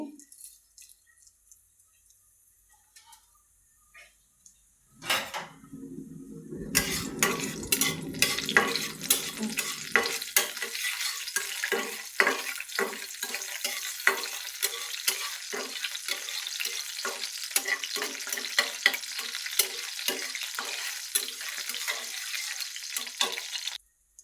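Dried red chillies and black cumin go into a pan of oil, where a sudden whoosh gives way to a steady, crackling fry with scattered pops and stirring noises that continue close by and fairly loud.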